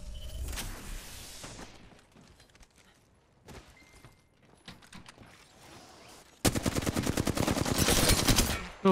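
Gunfire in a shooter game: scattered individual shots and short bursts early on, then a loud, rapid sustained automatic burst near the end.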